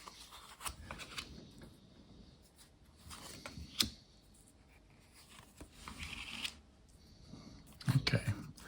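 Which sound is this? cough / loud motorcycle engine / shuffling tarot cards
shuffling tarot cards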